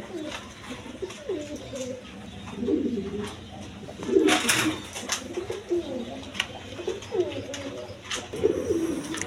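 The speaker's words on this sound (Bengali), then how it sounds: "বন্ধুগণ এখানে এক পেয়ার হাই ফ্লাইং গিরিবাজ কবুতর আছে" A pair of high-flying Giribaz pigeons coo in low, rolling phrases close by, repeating through the stretch amid faint background noise and a brief rustle.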